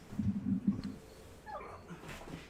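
A small dog whimpers and whines in short, soft bursts, followed by a few quieter high whines, close to the listener.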